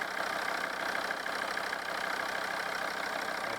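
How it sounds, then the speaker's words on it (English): A Volvo V50 D5 diesel engine idling steadily with a newly replaced alternator tension pulley, a close, even, continuous hum and clatter that holds constant throughout with no talking. "Looks like our idle sounds better now because the tension pulley is working as it should."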